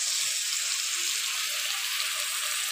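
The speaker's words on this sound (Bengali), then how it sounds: "এবার এর মধ্যে দিয়ে দিচ্ছি টমেটোর বাটা, দিয়ে দিচ্ছি কাঁচা লঙ্কা কুচি" Tomato paste and chopped green chillies hit hot oil and spices for a chicken bhuna masala, giving a steady, close hiss and sizzle with no talk.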